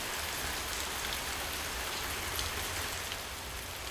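Steady rain pours during the rainy season at a primitive settlement of half-built houses, a dense even hiss of drops on surfaces, fairly quiet and constant with no voices.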